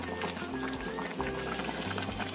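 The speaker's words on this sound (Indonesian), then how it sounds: "Kita masukkan di sini sekalian santan kentalnya." Thick coconut milk pours into a cooking pot of simmering beef skin for a lontong vegetable stew, a continuous close liquid gush and gurgle throughout.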